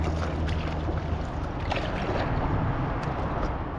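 Inflatable kayak pushed along by strong, steady paddle draws, with a continuous close wash of water and gurgling, no talk over it.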